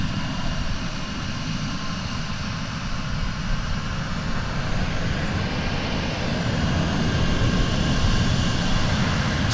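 An American Airlines Airbus A321 takes off at Dallas Fort Worth airport, its jet engines a loud, steady roar with deep rumble that holds throughout at close range.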